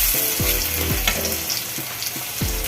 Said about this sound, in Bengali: মসুর ডালে পেঁয়াজি দেখুন আমি উল্টে পাল্টে ভেজে নিয়েছিলাম